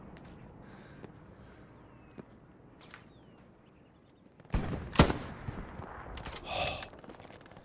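Two tanks approaching and firing in Hell Let Loose: after a quiet stretch of faint distant pops, a loud close burst of heavy blasts and cracks erupts, followed by a sharp report and rumbling echo.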